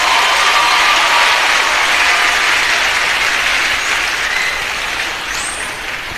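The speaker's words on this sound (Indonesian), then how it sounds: "Tepuk tangan ya tepuk tangan" A crowd at an Islamic religious gathering for the Prophet's birthday (Maulid) applauds loudly in a dense, continuous wash of clapping that gradually fades toward the end.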